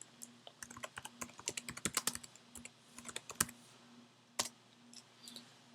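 Quick bursts of clicky computer keyboard typing as a new layer name is entered, close and fairly quiet, with short pauses between runs of keystrokes.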